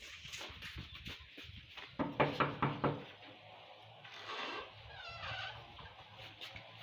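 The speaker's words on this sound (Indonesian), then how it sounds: "Bawang Putih mengetuk pintu rumah itu." Several sharp knocks on a wooden door of a wooden house on a mountain, a quick run of four or five raps in the middle of a quiet scene, with faint background noise.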